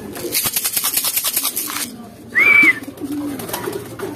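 Pigeons cooing nearby, a soft rhythmic coo sequence followed by one clear louder call, with faint background noise and no speech.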